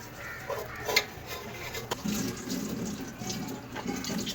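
Water trickles and splashes into a bowl of pakora batter in a short pour, with faint clinks of a utensil against the dish nearby.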